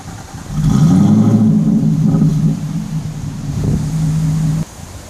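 A Ford Falcon XR8 FGX V8 engine revs up loud and close, holding a steady, deep droning note for several seconds, dipping slightly and swelling again before cutting off abruptly.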